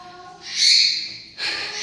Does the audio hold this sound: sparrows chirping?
yes